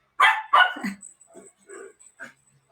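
Two loud, sharp dog barks up close, followed by several quieter yips and soft whimpers.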